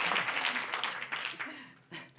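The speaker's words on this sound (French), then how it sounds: "On peut l'applaudir." Audience applause at a photography talk, a brief burst of clapping from a modest crowd that fades quickly, with speech heard over it.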